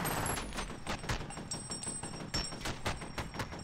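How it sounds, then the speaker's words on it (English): Rapid bursts of video game gunfire crackle in quick succession, with sharp, repeated shots over a busy, faint background. "Bullets everywhere, including from that fucker in the corner"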